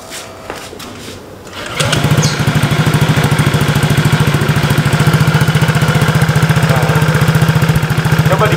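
A modified Honda PCX scooter with an aftermarket exhaust fires up after a few faint knocks, then runs at a steady, rapidly pulsing idle, loud and close for the rest of the clip.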